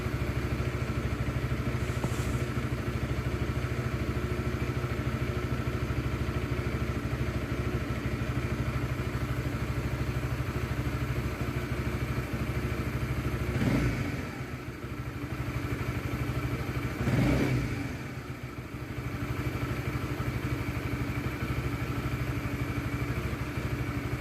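A motorcycle engine idles steadily while its newly assembled battery charges, a constant low drone with two brief thumps or clatters partway through, heard alone without voices.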